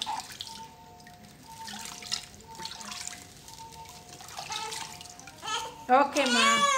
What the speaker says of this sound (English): using her right hand to splash water onto his body